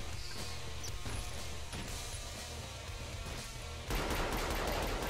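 Gunfire in the video game Killing Floor crackles in rapid, repeated bursts, fairly faint and steady, with a louder, denser flurry of shots toward the end and no voices.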